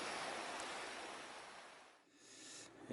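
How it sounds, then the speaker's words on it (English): The River Wye flowing through the valley near Monmouth gives a steady broadband rush of water, fairly loud and constant and heard alone, dipping briefly before swelling again. "there's the river"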